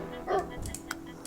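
A dog in the zombie survival game Project Zomboid gives a short bark or yip, a single brief sound over quiet game ambience.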